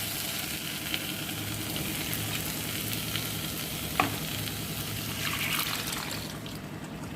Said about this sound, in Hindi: तो अब हम इसके अंदर डाल रहे हैं छोले।